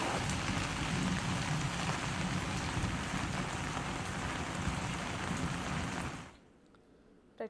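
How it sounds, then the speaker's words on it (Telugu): Heavy rain pours down in Srisailam in a dense, loud, continuous hiss and patter that cuts off abruptly near the end, leaving near-silence and then a brief knock. "గత రెండు రోజులుగా కురుస్తున్నటువంటి భారీ వర్షాలకు"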